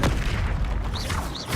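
A fiery Confringo blast spell erupts in Hogwarts Legacy on PC, a dense booming explosion with rumbling low body and whooshing streaks, loud and sustained throughout with no talk.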